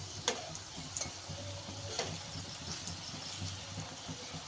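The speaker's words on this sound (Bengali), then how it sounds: "উল্টে পাল্টে এগুলো লাল করে ভেজে নেব।" Banana flower fritters shaped like onion pakoras fry in hot oil, giving a steady soft sizzle with a few faint clicks and taps from turning them over. No speech.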